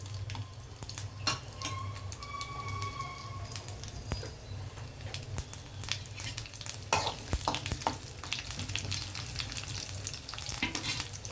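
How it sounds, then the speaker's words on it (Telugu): Chana dal, cumin, mustard seeds, dry chillies and curry leaves crackle in hot oil for a brinjal chutney tempering, with frequent sharp pops and spits over a steady low sizzle. Nobody speaks. "పచ్చిశనగపప్పు జీలకర్ర ఆవాలు ఎండుమిర్చి కరివేపాకు ఆయిల్ హీట్ అయ్యాక ఇవన్నీ వేసేద్దాం"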